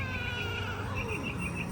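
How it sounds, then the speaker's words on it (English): A male house cat gives a raspy, hoarse meow, drawn out and close by, with a faint insect-like buzz in the background and no talking. "He's got a little raspy meow."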